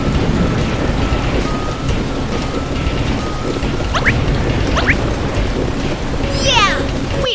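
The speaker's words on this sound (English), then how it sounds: "The storm is even stronger." Cartoon storm at sea with steady heavy rain and wind roaring throughout, a few brief whistling streaks and a rising swoosh near the end, loud and continuous with no thunderclap clearly standing out.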